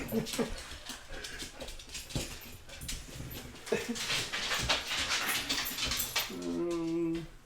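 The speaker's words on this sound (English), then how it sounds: "We have a dog." A dog whimpers and pants up close in short, uneven bursts while people talk nearby.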